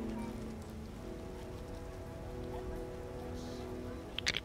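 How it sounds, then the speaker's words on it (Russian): Steady rain pours over the world of The Witcher, a constant wash of falling drops that holds through the scene, with a couple of sharper taps near the end. "А дождь-то и впрямь разошелся."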